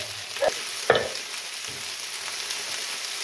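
Sausages fry in a pan for a budget tikka stew, a steady close sizzle with a couple of sharp clatters as they are tossed in early on.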